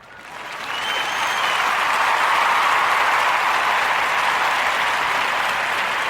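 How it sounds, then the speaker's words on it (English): A studio audience breaks into steady applause that swells over the first second and then holds as a dense, even wash of many hands clapping, with no voices over it. "giving our young sister Julia Scott a warm narrative podcast round of applause"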